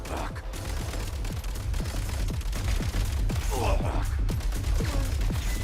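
Rapid bursts of gunfire in Genshin Impact, loud and dense, with repeated sharp shots over a busy game soundscape and brief vocal gasps.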